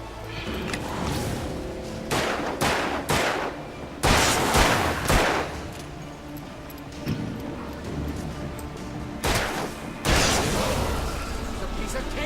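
Gunfire in the Alan Wake video game on Xbox 360, several separate bursts of shots spread across the stretch, loud and sharp over a steady game background, with a voice talking in between.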